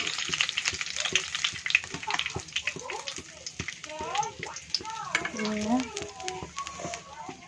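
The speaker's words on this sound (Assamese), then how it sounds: "মাছখিনি আধা ভাজা কৰি লৈছোঁ" Pieces of fish half-fry in a pan, giving a soft crackling sizzle with sharp spits and pops, heard close but fairly quiet, while a voice talks over it and children can be heard.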